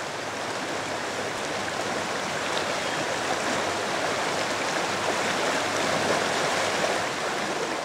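The Cannon River flows steadily past a town on its way to the Mississippi, a constant, even rush of water with no breaks, moderately near and alone.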